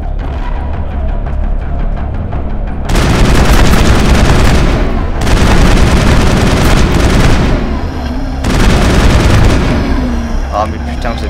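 Assault rifle fire in the video game Mass Effect, loud dense bursts of shots with booming impacts, in three long barrages separated by short lulls.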